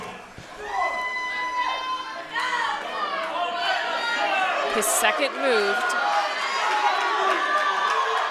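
Loud crowd at a powerlifting meet shouting and cheering during a heavy squat attempt, a dense, sustained roar of overlapping voices with some near, excited speech.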